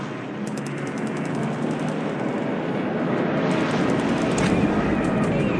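Dense, rapid 20mm cannon fire from Japanese Zero fighters in air combat in War in the Pacific, a loud continuous rattling burst over roaring aircraft noise, close and unbroken, no voices.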